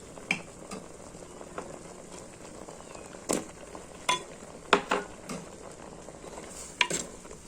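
Drumsticks are added to a simmering jackfruit seed and prawn curry and stirred, giving faint bubbling beneath a series of sharp spoon scrapes and clinks against the pot, spaced irregularly.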